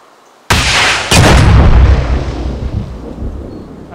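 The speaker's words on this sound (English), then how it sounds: "Rocket coming in." Incoming rocket exploding in the military video game Arma 2: a sudden loud blast followed by a second heavy boom, then a long rumbling decay and debris settling.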